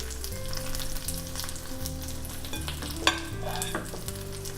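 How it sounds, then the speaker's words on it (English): Pancake batter for a Korean seafood pancake sizzles and fries steadily as it is ladled over scallions in a hot pan, with a constant crackle over a low background tone and a brief clatter partway through. "we're gonna take a ladle full and we're just gonna cover our scallions with the batter"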